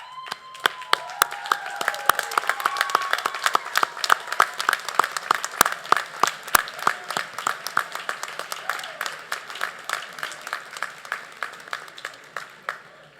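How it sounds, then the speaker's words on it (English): A crowd applauds award recipients at a college campus convocation, a long, steady run of crisp hand claps over about thirteen seconds, fairly near and building briefly before tapering slightly, with no talk over it. "would you please stand as you are able for a round of applause?"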